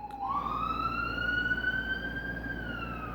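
A passing ambulance siren wails in one long rising tone that holds high and steady, loud and continuous over a low rumble of traffic.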